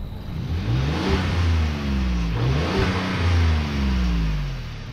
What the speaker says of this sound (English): It's kind of just like this drony V8-ish sound